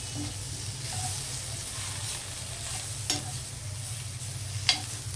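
A garlic egg dish gently stirred as it fries in a pan, a steady soft sizzle with occasional scraping clicks of the spoon, close and continuous.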